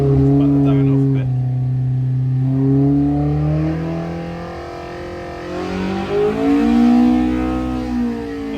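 Engine on a dyno being revved, its tone sweeping down, then climbing and falling in smooth pitch sweeps, loud and close throughout the run.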